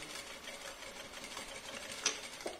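A sewing machine runs a short backstitch along an aligned seam, a steady close mechanical whir with a few small clicks near the end, alone without talk.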